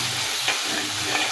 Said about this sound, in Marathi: वाटण टाकलं की या तेलामध्ये असं हलवून घ्यायचं आहे